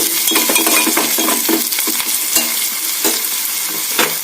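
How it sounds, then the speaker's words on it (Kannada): Onion frying in a pan over a low gas flame, a steady close sizzle broken by scraping stir strokes and light clinks of a utensil against the pan, with no talking. "ಇನ್ನೊಂದು ಸ್ವಲ್ಪ ಈರುಳ್ಳಿ ಫ್ರೈ ಆಗಲಿ"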